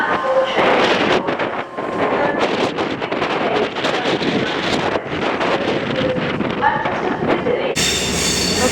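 Class 221 and Class 185 trains departing York station, a continuous loud rumble of wheels and rolling stock with wind buffeting the microphone and occasional squeal, passing close.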